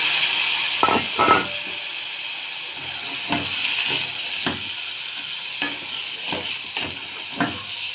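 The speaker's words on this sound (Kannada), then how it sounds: "ಮಸಾಲ ಫ್ರೈ ಆದಮೇಲೆ ಬೇಯಿಸಿದ ಕಾಳು ಅದು ಹಾಕ್ಬಿಡೋಣ." Boiled legumes tipped into a pan of frying spice masala, giving a steady close sizzle and hiss with repeated stirring scrapes and knocks at irregular intervals, no talking.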